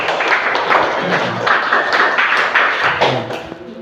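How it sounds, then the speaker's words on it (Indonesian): A classroom claps for a student who has just finished a presentation, giving a brief, close burst of clapping mixed with some voices. "Mungkin sebelum ya, tepuk tangan dulu."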